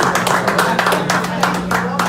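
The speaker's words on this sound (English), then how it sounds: "Give her a round of applause." Clapping at a fundraising event in Columbus, Ohio, comes in quick, close bursts from a small group, uneven and fairly loud, with a low steady hum underneath.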